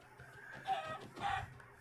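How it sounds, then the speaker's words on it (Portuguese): Chicken clucking in a video game, two short squawking bursts close by with a faint game background between them. "Não consigo matar a galinha"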